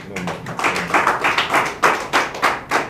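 Members of an international symposium of civil and university authorities clap for themselves, a loose run of distinct hand claps at an uneven rhythm, fairly close and moderately loud, with no talking.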